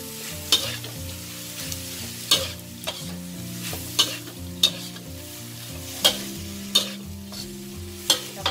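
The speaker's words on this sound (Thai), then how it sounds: "เพิ่มสแครอทค่ะ และถั่วงอกนะ แล้วก็คนด้วยค่ะ" Carrots and bean sprouts are stir-fried in a hot pan, with a steady sizzle under repeated sharp scrapes and knocks of the spatula in an uneven rhythm, close and loud, with background music and no talk.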